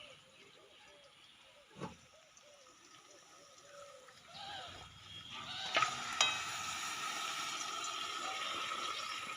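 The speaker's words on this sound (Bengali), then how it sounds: "মাংসটাকে দিয়ে ভালোভাবে নেড়ে দেব" Goat meat being stirred in a pot as it fries with chopped onion, a soft sizzle with scraping stirs and a couple of sharp clinks, rising louder toward the end.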